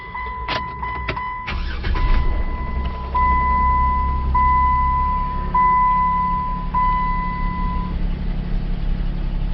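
A 2007 Jeep Wrangler JK engine with squirrel-damaged wiring harness cranks and catches after a few clicks and clunks, then settles into a steady idle while a chime beeps repeatedly.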